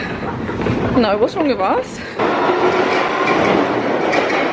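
A London Underground train rumbles loudly through Vauxhall station, a steady close roar that swells after someone speaks over the platform noise with a short laugh.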